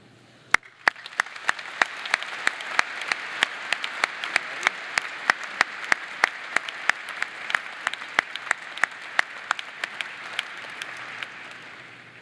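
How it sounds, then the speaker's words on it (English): An audience claps for an honoree at a university winter commencement ceremony, a broad, sustained wash of applause filling a large hall, with crisp individual claps standing out near the microphone across the whole stretch. "please join me in one more round of applause for Dr. Shirley Bryce Heath"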